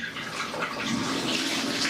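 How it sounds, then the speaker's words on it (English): Water pours steadily from a bathtub faucet, a bright continuous splashing rush that stays close and even, no voices. "There's our water running"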